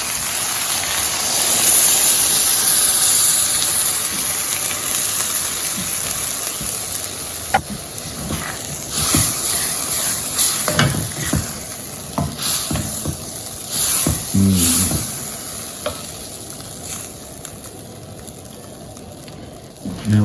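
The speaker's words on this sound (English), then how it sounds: "And I'm going to add the coconut milk" Coconut milk hisses into a pan of sizzling pork red curry, a broad steady sizzle with scattered stirring clinks and scrapes that eases off gradually.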